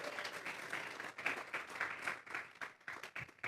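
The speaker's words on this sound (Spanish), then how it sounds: "Vamos a regalarle ofrenda de palmas al Dios de la gloria." A church congregation claps together as an offering of praise during a Spanish-language sermon, producing a dense, sustained round of applause with uneven swells and no voices on top.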